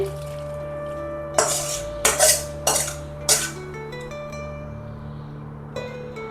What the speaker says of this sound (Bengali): এবারে পাত্রে ঢেলে নিচ্ছি